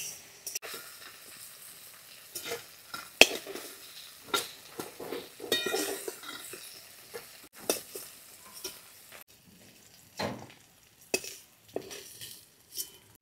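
Black prawns fry in mustard oil in a pan, a soft sizzle broken by irregular clinks and scrapes of a spatula or utensils against the pan, fairly close and without talking.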